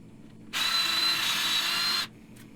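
A power drill bores a pilot hole in powder-coated metal on a phone camera jig, a single close, steady whine lasting about a second and a half before stopping.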